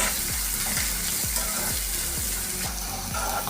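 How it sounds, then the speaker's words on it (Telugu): Chopped onions fry in hot oil in a pan for eggless bhurji, a loud continuous sizzle with regular scraping strokes of a spatula stirring them, close and steady throughout. "ఇప్పుడు ఆనియన్స్ మనకు వచ్చి మంచిగా రోస్ట్ అయిపోయినాయండి"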